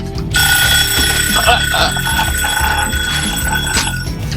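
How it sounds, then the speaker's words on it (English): An alarm system rings out loud and insistent, a repeating electronic tone sustained for several seconds, with voices faintly underneath. "It was protected by some type of alarm system."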